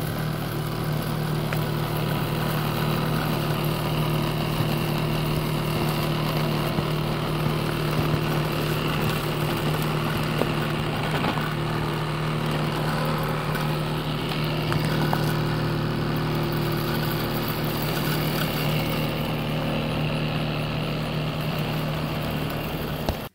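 A Husqvarna Automower robotic lawn mower runs with new blades fitted and an imbalanced cutting disc, giving a steady, loud, continuous motor drone with a low hum that holds throughout without talk.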